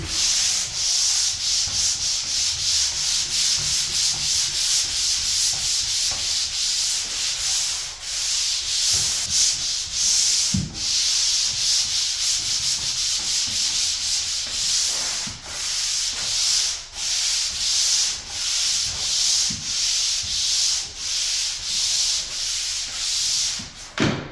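Drywall is sanded by hand with loud, close, continuous scraping strokes in a steady back-and-forth rhythm, broken by short pauses. No voices are heard.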